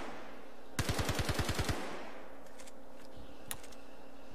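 Automatic small-arms fire in the space game Star Citizen, a rapid burst of about ten evenly spaced shots followed by quieter electronic game sounds and a single later shot, with no talk.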